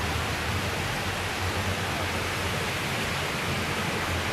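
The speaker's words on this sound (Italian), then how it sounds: "Quella lì scende l'acqua e poi in inverno si ghiaccia, diventa una cascata di ghiaccio." Steady, even rush of a mountain waterfall in the Dolomites near Sottoguda, a constant broadband roar with no pauses and no voices.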